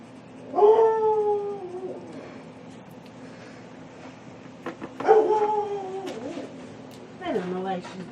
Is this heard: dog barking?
yes